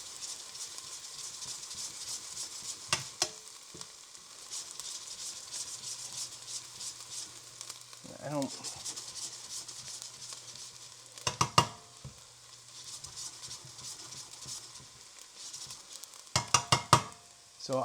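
Chopped vegetables sweating in a pan on lowered heat for risotto, a soft continuous sizzle with occasional louder scrapes and stirs of a utensil against the pan, close and steady with no talk.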